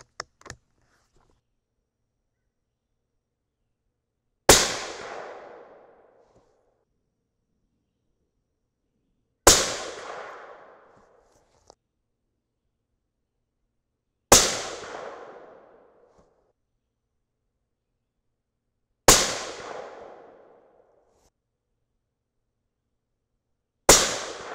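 Five loud, sharp 6.5 Creedmoor rifle shots firing 142gr Sierra MatchKing bullets over H4350 powder, each a crisp crack with a decaying outdoor echo, evenly spaced about five seconds apart with silence between.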